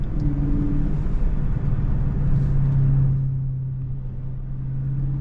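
A Dodge Charger Scat Pack with the 392 engine, driven in manual mode, gives a steady, loud low engine rumble from inside the car, holding an even drone throughout with a slight shift in tone partway through.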